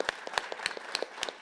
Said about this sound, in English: a massive round of applause is due for Yeah. the 6 speakers we've had again on this stage